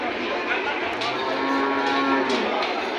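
A water buffalo lowing steadily at close range at a cattle market, with a faint murmur of a crowd behind it.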